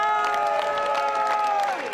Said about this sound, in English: That cheer is for you.